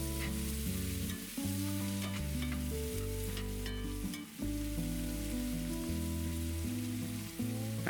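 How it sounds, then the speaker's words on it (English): Leeks and mushrooms fry in a pan for a blackbird pie filling, a constant crackling sizzle broken by spoon scrapes and clicks, all beneath prominent steady background music. "Time to add the leeks and the mushrooms. Stir it around for 2 to 3 minutes here."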